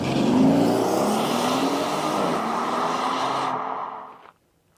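Porsche Cayenne Turbo facelift SUV drives with a steady loud engine and road roar and a faint rise in pitch near the start, then cuts off abruptly.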